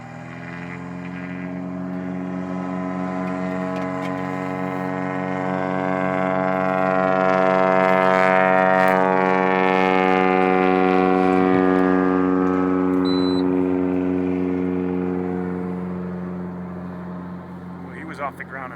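Cessna 172 seaplane taking off from water, its piston engine droning with steady harmonic tone that swells louder toward the middle as the plane runs and lifts off, then fades gradually.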